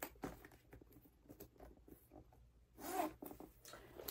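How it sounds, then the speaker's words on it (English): Zipper closing a compartment of a Coach Tabby bag, a quiet close rasping pull with soft handling rustles and taps of the bag around it. "So I'll zip that up."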